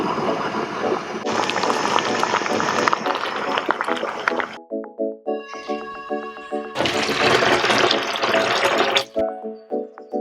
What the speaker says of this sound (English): I'm actually going to attempt to wash my hair in a bucket